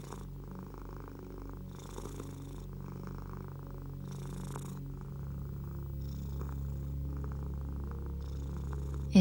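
A cat purrs steadily and continuously at close range, a low, even rumble with a rhythmic rise and fall, alone with no talking throughout.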